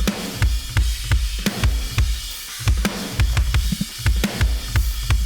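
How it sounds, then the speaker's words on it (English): Hybrid metal drum kit with sampled, triggered kick, snare and toms, played as a fast, tight groove of punchy low kicks and sharp snare cracks repeating steadily, loud and up front with no voices. "When it comes to kick, snare, and toms, I sampled it."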